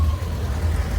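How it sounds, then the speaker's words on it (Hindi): Garbage truck passing nearby, a loud low engine rumble and road noise that stays steady and close for its whole brief length, with no voices over it. "कूड़े वाली गाड़ी की आवाज आ रही है"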